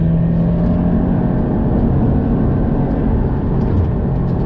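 Subaru BRZ engine at high speed on a race track, a steady, loud drone under load with constant road and wind roar and no pauses.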